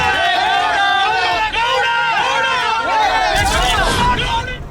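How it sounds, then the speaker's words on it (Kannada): Crowd of Prajwal Revanna and HD Revanna supporters in Hassan chanting slogans together, a dense loud wall of voices with rhythmic shouted phrases, rising into louder, noisier cheering near the end. "ಪ್ರಜ್ವಲ್ ಹಾಗೂ ರೇವಣ್ಣ ಪರ ಅಭಿಮಾನಿಗಳು ಘೋಷಣೆ ಕೂಗಿದ್ದಾರೆ"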